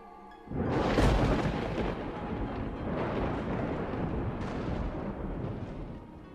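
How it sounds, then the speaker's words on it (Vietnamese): A sharp, heavy thunderclap bursts in after a moment of quiet and rolls on as a loud, sustained rumble for several seconds, part of a ghost story set in an abandoned villa in Da Lat. "Thì bất ngờ một tiếng sấm sét chát chúa vang lên."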